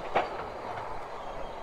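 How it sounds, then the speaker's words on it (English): A train rumbles past near a remote Welsh trail, with a steady rolling rail roar and a brief sharper clatter at the start. "Whoa, guys, look at this train."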